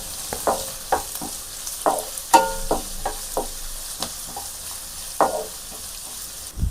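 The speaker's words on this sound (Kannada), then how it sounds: "ಈರುಳ್ಳಿಯನ್ನು ಚೆನ್ನಾಗಿ ಗೋಲ್ಡನ್ ಕಲರ್ ಬರುವವರೆಗೂ ಫ್ರೈ ಮಾಡಿಕೊಳ್ಳಬೇಕು." Two medium onions, finely chopped, fry in a pan toward golden with a steady sizzle, broken by sharp spatula scrapes and stirring clicks at an uneven rhythm, close and moderately loud with no talking.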